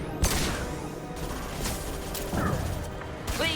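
Shotgun blasts from the Mass Effect video game boom in a quick burst of sharp, loud shots amid clattering combat noise and mechanical sounds, with a voice briefly heard.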